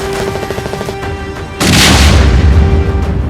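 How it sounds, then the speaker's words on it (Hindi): Blasts from strikes on targets in the Gaza Strip, a deep heavy boom erupting midway and rumbling loudly, after a lower stretch of crackling, rhythmic noise; no talk. "गाजा पट्टी में हमास के ठिकाने उड़ाए जा रहे हैं"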